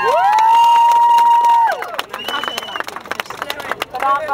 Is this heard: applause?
yes